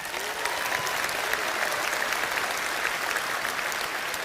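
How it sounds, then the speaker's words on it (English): A conference audience at the Reform UK National Conference applauds, a dense, loud, sustained clapping with no talk over it. "Everyone involved in branches, give yourself a round of applause."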